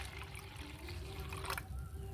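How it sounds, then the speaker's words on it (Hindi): Homemade liquid fertilizer pours steadily into a mug, a continuous watery trickle and splash heard close up at moderate level, with a faint voice briefly present. "तो आधा लीटर खाद हम इस मग में डाल लेंगे।"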